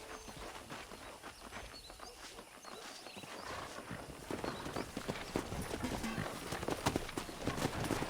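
Hooves clop rapidly as a pack of wild horses gallops in the video game Red Dead Redemption 2, the drumming growing louder and denser toward the end, with a faint background hum.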